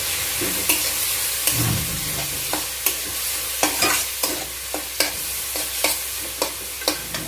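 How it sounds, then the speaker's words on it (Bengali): Mustard greens saag mixture being stirred in a pan for Punjabi sarson ka saag, a spoon scraping and knocking in a steady series of sharp taps over a soft sizzle, close and alone. "খুব ভালো করে এটা এখন মিক্স করতে হবে।"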